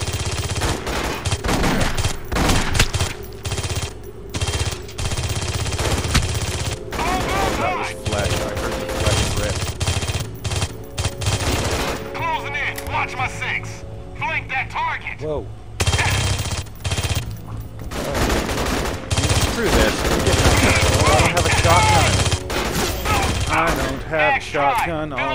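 Video game gunfire crackles almost nonstop in loud automatic bursts and volleys, with short breaks. A player talks over the shooting throughout.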